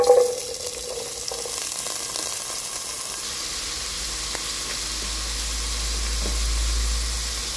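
Chopped onions and green chili drop onto hot oil with cumin seeds, giving a steady loud sizzle and frying hiss with occasional stirring clinks, close by and without talk.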